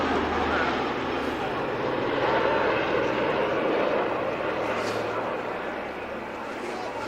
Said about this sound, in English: here comes the C-54